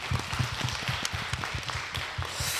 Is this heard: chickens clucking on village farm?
no